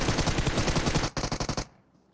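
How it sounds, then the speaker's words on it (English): Rapid strafing hip-fire from an automatic weapon in PUBG Mobile: a loud, steady stream of close gunshots, then a short burst of separate shots that stops abruptly, leaving near silence. "That's that strafe hip fire."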